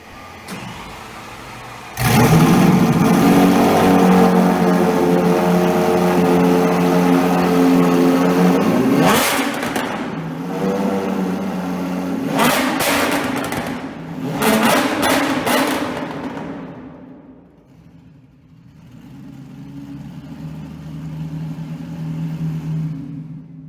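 A white McLaren 720S with a Rift aftermarket exhaust starts up in an underground Brisbane car park, holds a loud raspy drone, then fires off several sharp revs that fall away to a quieter idle.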